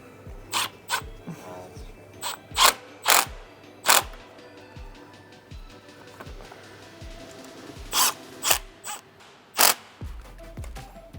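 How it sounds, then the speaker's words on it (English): An 8mm socket ratchet snugs charge pipe clamps on a 2022+ Volkswagen GTI MK8, giving short, sharp clicking bursts at irregular intervals, close by in a quiet space. "we'll tighten down these clamps to secure it"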